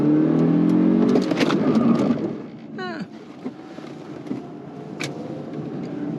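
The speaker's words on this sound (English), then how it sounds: "anti-lock brakes kicked in" A 2015 Toyota Camry LE or 2015 Honda Accord LX brakes hard from speed with its anti-lock brakes engaging, the engine and road roar dropping away as the car slows, followed by a brief squeal and quieter cabin noise.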